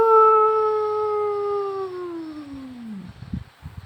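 A single long, loud wolf howl glides slowly downward in pitch and fades, followed by a few soft rustling thumps; no one talks.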